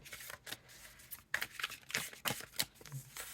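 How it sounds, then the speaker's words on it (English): A travel-size tarot deck is shuffled overhand in a quiet room, making a string of quick papery riffles and soft slaps of cards. "It shuffles well overhand."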